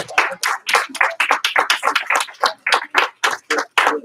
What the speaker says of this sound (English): So I'll give him a big round of applause.